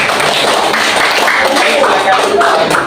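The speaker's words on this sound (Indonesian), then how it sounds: "Sekali lagi tepuk tangan untuk kelompok ini" Dense, continuous clapping from a group of people applauding a team at a teacher coaching session, loud and close, filling the room without pause.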